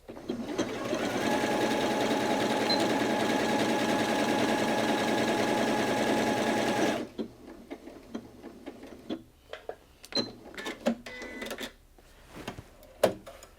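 A Janome Atelier 6 sewing machine stitches out a satin stitch design, a close, steady rapid whir lasting about seven seconds, then stopping and giving way to scattered clicks and handling noises.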